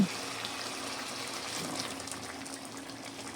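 Water poured into the bowl used for ground poppy seed and green chilli paste, a faint steady gushing pour at close range with no talking.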